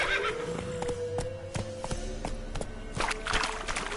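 Horse in The Witcher 3 whinnying over steady clip-clopping hooves, the neigh rising clearly above a continuous rhythmic gait that stays close throughout.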